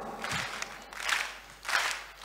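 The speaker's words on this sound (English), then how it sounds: "We're gonna start with a round of applause." Audience applause at a mridanga auction during a kirtan festival in Mayapur, short bursts of crowd clapping and cheering that swell and fade twice, moderately loud.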